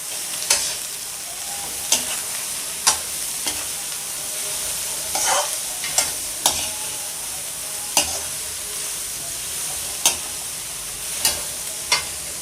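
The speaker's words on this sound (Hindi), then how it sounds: "तरकारी को बिल्कुल हल्का सा फ्राई कर लेंगे, कच्चापन जाने तक" Chicken and chopped vegetables stir-frying in a pan for fried rice, with a steady sizzle and sharp, irregular spatula scrapes and knocks against the metal, close and fairly loud with no talking.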